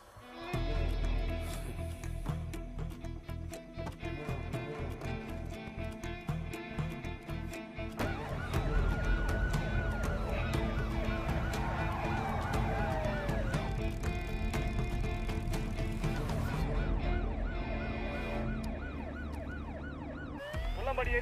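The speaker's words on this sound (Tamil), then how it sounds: "புல்லம்பாடி ஏரியாக்குள்ள ஒரு ஆம்புலன்ஸ் ரொம்ப நேரமா சுத்திட்டு இருக்கு." An ambulance siren wails continuously through a busy area in Pullambadi, its rising and falling sweeps steady and fairly close against engine rumble, traffic and clatter, with occasional voices.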